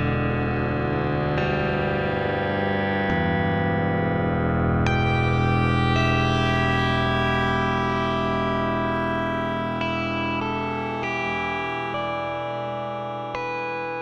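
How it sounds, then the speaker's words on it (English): Ambient electric granules layer drenched in lush convolution reverb, a dense, sustained drone of shimmering pitched tones that shifts chords every few seconds, steady and loud throughout with no voices. "A granules layer with lush convolution reverb."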